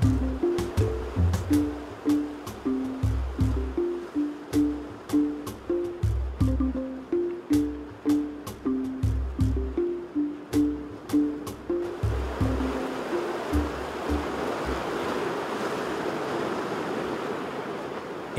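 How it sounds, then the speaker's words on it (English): Ferocious ocean waves on a rocky Galapagos shore roll in with the incoming tide, first as repeated rhythmic surges with a musical score playing over them, then giving way to a steady, loud roar of surf. "In no time, the tide flows in along with ferocious waves."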